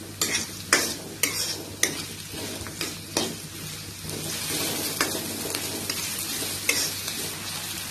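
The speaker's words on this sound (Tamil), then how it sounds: "நல்லா வதக்கி விடுங்க." Chopped onion sautés in a pan for pineapple fried rice: a steady close sizzle cut by sharp, rhythmic scrapes and knocks of a spoon against the pan, with the stirring easing off toward the end.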